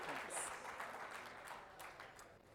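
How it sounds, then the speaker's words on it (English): At an awards dinner an audience applauds the 2018 living legend honoree, a soft, fairly distant wash of clapping heard alone for a few seconds. "let's give another round of applause for the 2018 living legend, Mayor David Norman Dinkins"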